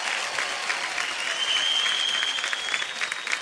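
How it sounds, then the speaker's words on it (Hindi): An audience claps loudly after a singing performance, a dense, sustained burst of applause with no voices on top. "जोरदार तालियां हो जाए"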